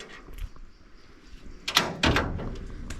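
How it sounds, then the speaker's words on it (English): A door is opened in an old barn, giving a brief creak followed by a louder knock and scrape of the door moving, close by and heard alone. "Who opened the door?"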